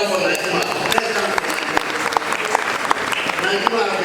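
Applause from a conference audience at a national youth and adolescent family planning event, steady sustained clapping filling the room with scattered louder claps and voices mixed in underneath.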